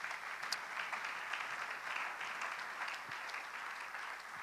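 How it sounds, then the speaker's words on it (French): A church congregation at a Sunday service claps in steady, sustained applause, a dense wash of many hands filling the room at moderate distance without a break. "Pouvons-nous acclamer la parole de Dieu?"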